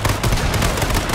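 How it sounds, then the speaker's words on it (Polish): A car blowing up in the battle royale video game H1Z1: a loud, dense burst of explosive crackling and booming that fills the whole moment, close and harsh, with no voices over it. "Wysadziło mi samochód obok nich."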